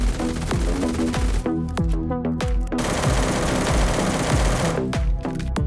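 Rapid bursts of 7.62 rifle fire in a video game hammer out loud and close, fast repeating shots with short gaps between the strings and no voices over them.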